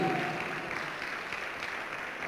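Congregation at a Spanish-language church sermon giving a big round of applause for the Lord, a continuous, fairly soft wash of many hands clapping that holds steady and slowly tapers.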